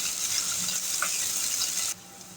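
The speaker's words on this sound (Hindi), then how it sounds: "एक मिनट तक इसको फ्राई करेंगे लाइट ब्राउन होने तक" Onions sizzle steadily in a hot pan while frying to light brown for urad dal tadka, a close, continuous crackling hiss that drops a little quieter near the end.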